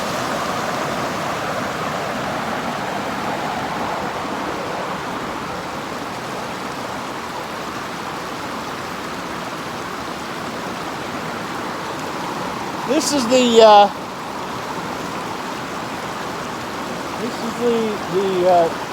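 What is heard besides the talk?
river flowing past a powerhouse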